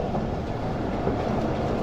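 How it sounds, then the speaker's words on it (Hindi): Continuous low rumble of a train approaching a railway station in Pakistan in heavy winter fog, wheels clattering steadily on the rails, close and loud with no voices. "10:35 पर हमारी ट्रेन अप्रोच बना रही है शाहनवाज भुट्टो रेलवे स्टेशन पर"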